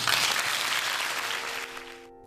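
A church congregation claps together, a dense burst of applause that is loudest at the start and then fades away after about two seconds.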